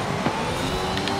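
Mercedes-AMG One hypercar engine in Forza Horizon 5 pulling hard under acceleration, a steady loud drone with a layered rasp throughout a short burst, with no talking.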